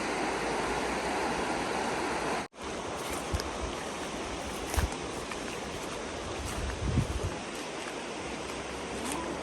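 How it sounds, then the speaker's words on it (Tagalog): A fast-flowing river rushes in a steady, loud broadband roar, close by and unbroken apart from a brief dropout, with faint low thumps under the water noise. "Grabe guys, ang bilis ng ilog"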